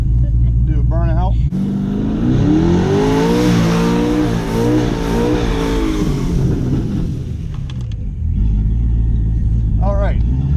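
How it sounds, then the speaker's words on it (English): A twin-turbo Chevrolet Camaro ZL1 engine roars and revs hard for several seconds during a burnout, a loud sustained rumble with rising and falling pitch, framed by idling before and after. "Do a burnout."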